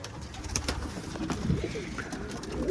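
Pigeons in an office coop coo softly and repeatedly at close range, low throaty calls mixed with light rustling and small clicks in the background.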